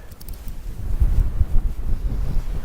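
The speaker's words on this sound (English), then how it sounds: "as you might be able to hear on the microphone, it's windy" Low, rumbling wind buffeting a microphone while wild camping, a steady blustery roar with gusts that swell and fade, no voices.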